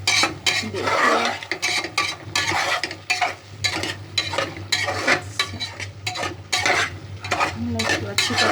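Kheema aloo methi sizzles in a pan while a spoon stirs and scrapes it in quick rhythmic strokes, close and loud, with a steady low hum running underneath.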